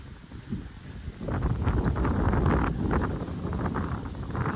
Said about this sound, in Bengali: বাট এত হাওয়া বইছে